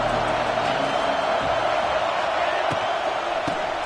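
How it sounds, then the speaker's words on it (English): A dense, steady roar from a football stadium crowd on third down, loud and unbroken for the whole stretch, with faint individual shouts and thuds inside the mass of noise. "the crowd really getting into it"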